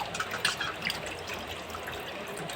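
Tap water running steadily from a pipe while raw fish is washed with salt by hand, a soft continuous trickle and splash with no talking.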